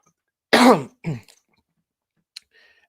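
A man clears his throat sharply twice, close and alone in a quiet room, followed by a faint click and a brief soft murmur.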